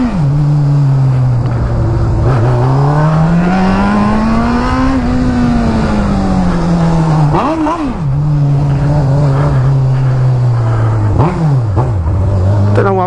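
A Honda Hornet motorcycle with no catalytic converter revs repeatedly up close, its raspy exhaust swelling and falling in pitch, with several quick blips cutting through a steady loud idle.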